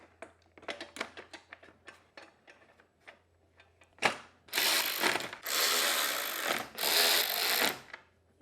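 A recoil shroud cover goes back onto a Briggs and Stratton engine on a Snapper mower. A run of quick, close ratcheting clicks is followed by several loud, sustained mechanical whirring bursts.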